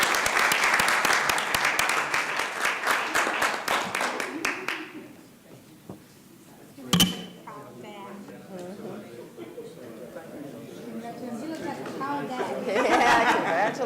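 Applause at a city council meeting, a crowd clapping briskly and loudly for several seconds before fading into chatter, laughter and nearby conversation, with a sharp knock midway and clapping swelling again at the end.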